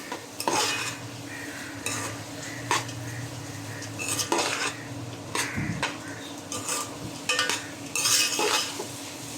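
Khichuri being stirred and fried in a pan, with repeated scraping strokes of a utensil against the metal over a low sizzle, the clatter coming in irregular bursts.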